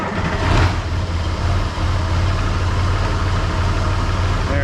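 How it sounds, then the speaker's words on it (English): Vehicle engine idling at a steady speed after its throttle linkage was moved back to the correct hole, with a brief rise near the start before settling into an even, continuous rumble up close. "that's more of a correct idle speed"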